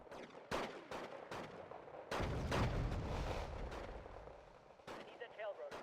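Repeated booming cannon blasts in the strategy game Wargame: Red Dragon, fired on infantry, some overlapping into a dense rumbling barrage, with a few sharper cracks and some distant noise.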